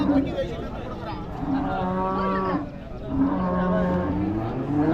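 Cattle low and moo at the Orappam cattle market in Krishnagiri district, where HF calves are sold; several drawn-out bellowing calls follow one another close by, loud over a faint background murmur.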